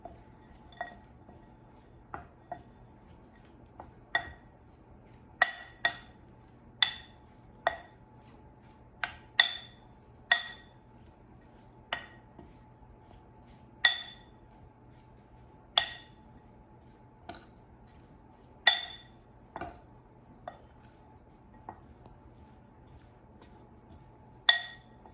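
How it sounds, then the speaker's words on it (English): Pasta is tossed with Parmesan cheese and garlic powder in a bowl, producing sparse, sharp clinks of a utensil against the dish at irregular intervals over a quiet background hum. "now let's toss it until the pasta is coated with Parmesan cheese"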